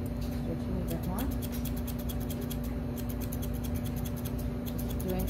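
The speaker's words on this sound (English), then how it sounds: "I can take my grooming scissors and just make it the way I want to make it" Grooming scissors snip steadily through an English springer spaniel's coat, a rapid run of crisp, close metallic clicks in an even rhythm over a soft room hum.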